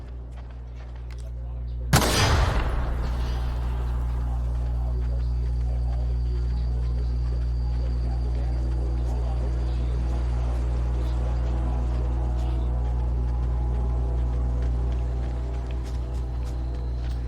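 A sudden loud blast from exploding flowers in The Outer Worlds, followed by a long low rumble and a steady droning hum, with faint scattered game effects over it.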